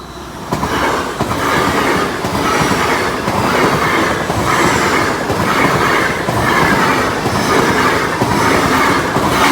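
A loud train rolls past close by at a level crossing, wheels clattering in a steady repeating rhythm over the rails, continuous throughout.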